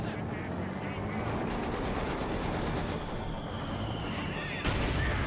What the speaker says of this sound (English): Good mortar hit there on the 50 cal.